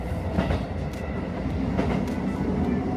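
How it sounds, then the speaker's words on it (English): A train pulls into Niseko Station in snowy Hokkaido, its steady rumble and rhythmic clatter of wheels on rail filling the scene loudly and continuously, with no voices. "Arriving now at Niseko Station."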